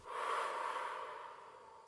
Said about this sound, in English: we'll start to breathe in through the nose and out through the mouth.